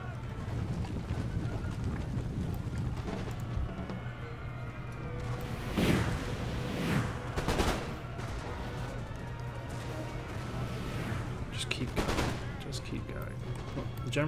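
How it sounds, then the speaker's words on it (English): Cannons firing canister shot in a Napoleon Total War battle, several deep booming blasts spread over the scene amid constant battlefield rumble and game ambience. "Glorious barrage of canister."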